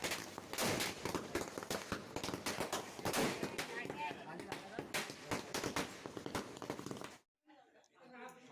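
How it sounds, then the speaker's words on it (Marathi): Firecrackers bursting at very close range during a village Tulsi wedding, rapid loud cracks in dense irregular bursts for about seven seconds, with voices mixed in, then a sudden drop to near quiet. "फटाके पुन्हा एकदा फार जवळून फटाके फुटत आहेत"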